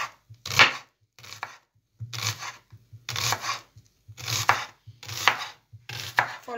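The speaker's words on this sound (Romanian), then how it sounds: "Tăiem și ceapa julienne." Knife chopping red onion julienne on a cutting board, brisk bursts of rapid crisp chops in about seven separate rhythmic runs with short pauses between, close and clear with no talking.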